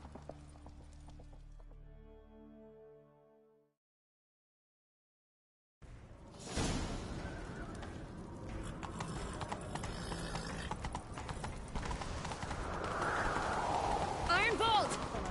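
Rapid galloping hoofbeats in The Witcher 3: Wild Hunt, in Skellige, pound through a dense wash of game noise, following a short stretch of music and a brief silence.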